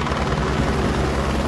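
A helicopter hovering over a narrow, rocky field, its rotor and engine giving a steady, loud, close drone throughout with no talk.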